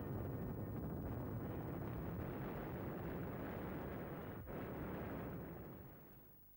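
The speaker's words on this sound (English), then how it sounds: "There's nothing the REs like better than a big bang." Royal Engineers set off a big explosion during wartime Britain, a deep, sustained roaring blast that rumbles steadily for several seconds before slowly fading, heard at a distance on old archival film.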